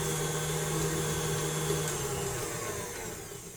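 An electric mixer whisks cake batter for a pineapple sheet cake on a higher speed, giving a continuous, even motor whir with a faint rattling edge that stays loud and steady before easing slightly at the end.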